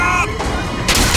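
Video game gunfire in Bioshock Infinite, a loud, dense burst of continuous shooting and combat noise throughout, with the game's sound mixed in and a sharper blast near the end.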